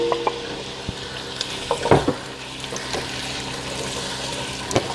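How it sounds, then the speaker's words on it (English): Chopped peeled apples tumble into a pot of browning onions, giving a steady sizzle with stirring scrapes and a few brief clunks, close and moderately loud, with no talking. "I let my onions cook for about 9 minutes and they're looking pretty tender."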